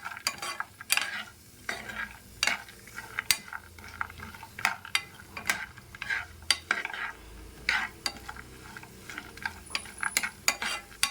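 Whole almonds fried in a pan for semiya kesari, repeated scraping and clicking strokes of a spoon over a soft sizzle, close and rhythmic, with no talk.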